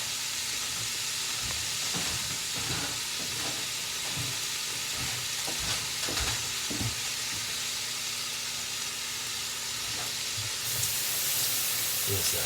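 Onions and cauliflower sizzle steadily in a pot, a constant soft hiss with occasional crackles and stirring clinks, moderately close and alone.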